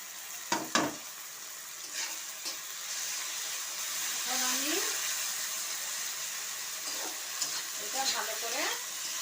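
Ground spice paste of ginger, garlic, cumin and green chili frying in a pan for a fish dish, a steady soft sizzle with a few scraping stir knocks near the start and faint voice-like sounds in between.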